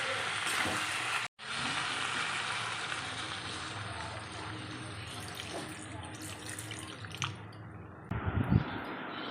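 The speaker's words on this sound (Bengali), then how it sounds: "সামান্য একটু জল দেবো কারণ অলরেডি মজে গেছে তরকারি" Water added to a pan of simmering Bengali curry made with fresh stalks, a steady sizzling, bubbling wash with a brief break near the start and a splashy burst near the end, a voice talking faintly underneath.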